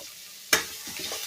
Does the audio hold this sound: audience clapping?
no